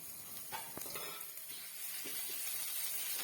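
Ginger garlic paste sautéing in a pan for tomato rice, a quiet continuous sizzle and hiss with a few light stirring scrapes.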